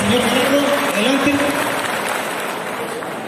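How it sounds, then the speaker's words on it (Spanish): Applause in a community gathering for a newly chosen road councillor, a crowd clapping steadily for a few seconds while a voice speaks over it at the start. "Un fuerte aplauso."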